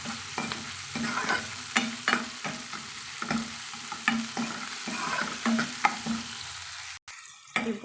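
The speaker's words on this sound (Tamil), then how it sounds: "நம்ம கொஞ்சமாக உப்பு சேர்த்துட்டோம்னா நம்மளுக்கு தக்காளி வந்து சீக்கிரம் வதங்கி வந்துடுங்க" Tomatoes sautéed with salt in a pan for a jackfruit-seed curry, with a spoon scraping and stirring in repeated strokes over a soft, steady sizzle, close up, and a brief break near the end.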